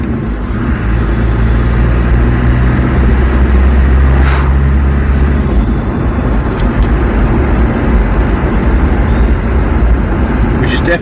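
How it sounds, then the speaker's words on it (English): A Land Rover Discovery driving on the road, with a constant rumble of engine and tyre noise and a faint intermittent scrape from the rear brakes blended into it. "Now let's just see about the noise from the brakes."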